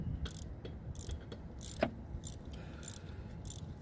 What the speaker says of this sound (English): You gotta do it with a ratchet, you can't do it with a gun.